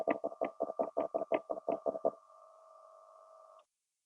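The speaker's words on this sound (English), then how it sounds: "Let's just bellow this grinder." A bellows is pumped on a Fiorenzato Allground coffee grinder, producing about ten quick, rhythmic puffs, followed by a steady low motor hum that stops suddenly.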